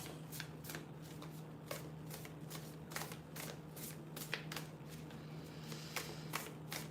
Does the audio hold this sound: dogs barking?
no